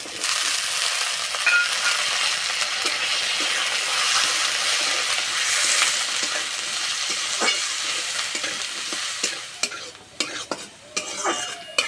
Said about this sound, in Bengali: আলু আর গাজর হালকা করে ভেজে নেব।